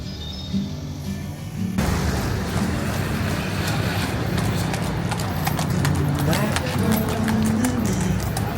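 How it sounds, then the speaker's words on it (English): Horses' hooves clip-clop steadily on a busy Marrakech street at night, loud and close, a continuous rhythmic clatter over crowd noise and traffic. "Horses are running over people."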